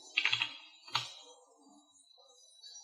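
A computer keyboard clicks in two quick clusters of keystrokes, then falls quiet. The keys sound faint but close, with no voices.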